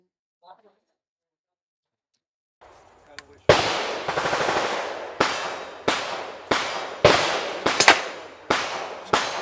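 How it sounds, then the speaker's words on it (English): A suppressed 300 Blackout rifle fires on an outdoor range in Knoxville. After a quiet pause, about nine loud, muffled cracks follow in quick, fairly even succession, each with a short decaying tail. "It's the ultimate suppressor experience, and you guys are about to see it."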